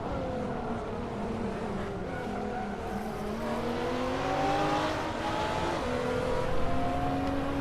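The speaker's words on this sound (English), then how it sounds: "My god, Danny's car is loud" Race car engines in Hot Wheels Unleashed whine and rev continuously, pitch rising and shifting as several cars drive, loud and steady with no talking.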